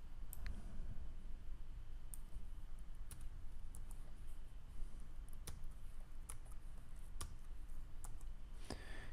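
Serial number keyed in on a computer keyboard, a quiet, irregular string of crisp key clicks with short pauses between bursts, heard close against faint background hum with no talking.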